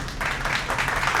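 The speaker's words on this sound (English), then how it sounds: "Cue hand claps." A short burst of hand claps, several people clapping together in a brief, lively patter.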